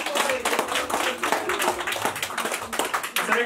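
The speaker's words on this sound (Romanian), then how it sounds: "Hai să aplaudem pe toți" A small group clapping for a man's 45th birthday surprise, brisk uneven hand claps close by, continuing steadily with a voice faintly mixed in.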